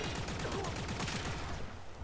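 Rattleguts kitgun from Warframe firing in a rapid automatic burst, a dense stream of quick repeated shots for about a second and a half before tailing off, loud and close with no voices.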